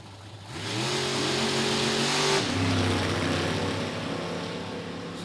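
Ford Mustang roadsters at an NHRA drag race roar loudly as the engines rev and pass, a dense sustained blare with pitch shifting midway, no talk over it.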